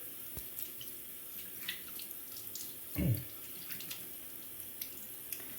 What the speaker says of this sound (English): Just gonna wet it under water.